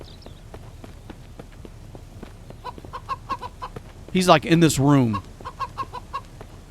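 Chicken clucking in the survival video game Mist Survival, a run of short rhythmic clucks building to a loud squawking burst mid-clip, then settling back to clucks, with someone talking briefly.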